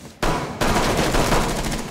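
Rainbow Six Siege gunfire: a sharp shot, then a rapid burst of automatic fire, loud and close, with no talk over it.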